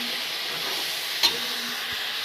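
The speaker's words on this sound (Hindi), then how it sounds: "देखिए यहाँ पर चिकन बन रहा है।" Chicken frying in a pan gives a steady, even sizzle and hiss at moderate level, with one brief stirring clack partway through and no voices.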